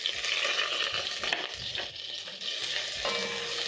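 A large white onion sautés in hot cooking oil left over from frying sausages, over a medium-low flame, giving a steady close sizzle with occasional stirring scrapes and no talking.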